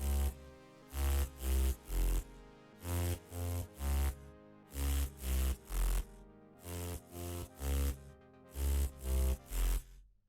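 Synth chords pulse in rhythmic bursts, repeatedly ducking to silence between hits over a deep 808 sub bass, giving a pumping sidechained feel.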